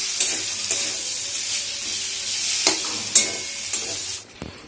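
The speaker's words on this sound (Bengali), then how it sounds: "আদার গন্ধটা যাতে চলে যায় সেরকম করে সুন্দর করে একটু কষিয়ে নিচ্ছি" Ginger and tomato being stirred and sautéed in a pan, a steady close sizzle and hiss with repeated scraping stir strokes, ending in a few louder clatters.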